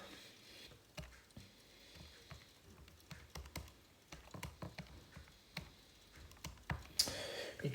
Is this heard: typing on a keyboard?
yes